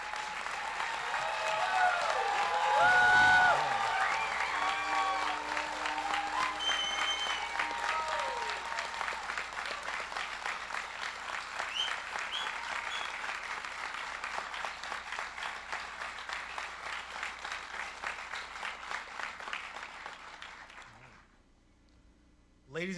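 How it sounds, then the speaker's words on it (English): Sustained audience applause at a Naval ROTC commissioning ceremony, a dense steady wash of many hands clapping that holds for about twenty seconds with a brief murmur of voices early on, then fades out to near silence. "Please join me in a round of applause for all the new."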